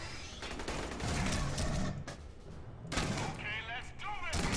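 Rapid bursts of gunfire from the Aliens: Colonial Marines shooter, Stasis Interrupted add-on, crackle in dense volleys with short pauses, loud and close, under a voice talking.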